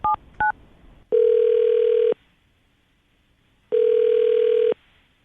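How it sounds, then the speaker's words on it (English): Two short keypad dial tones sound, then two long, loud telephone ring tones separated by a pause, from a phone line placing a call to a radio show. "All right, Landon, we're going to call her right now."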